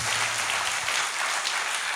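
An audience bursts into steady, loud applause at a Malayalam talk, with dense clapping filling the whole two seconds and no voices heard over it.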